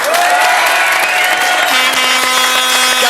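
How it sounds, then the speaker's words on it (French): A French television game show studio audience claps in dense, sustained applause, loud and close throughout with no pauses. "on l'applaudit"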